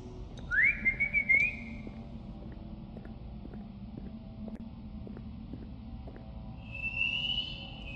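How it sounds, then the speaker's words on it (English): In the horror video game Lost in Vivo, a whistle blown by the player is answered by an eerie, inhuman whistle: a short rising call near the start, then a fainter, thinner reply later over a low droning background. "Danny's bark is replaced by an eerie, inhuman-sounding whistle calling back to you"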